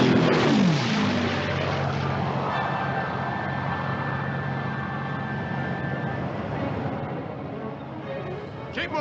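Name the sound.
propeller aircraft launched from carrier flight deck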